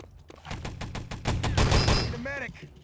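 Video game gunfire sounds as a dense burst of rapid shots that rises to a loud peak and then breaks off. Excited voices call out over it.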